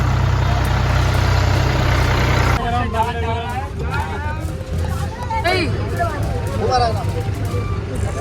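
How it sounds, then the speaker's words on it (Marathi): A tractor engine idles loud and steady at a honey bee park in Pimpalgaon Baswant, Nashik, for a few seconds. Crowd chatter and voices then take over, with the engine hum continuing underneath. "चला आपण ट्रॅक्टर राईडचा आनंद घेऊ"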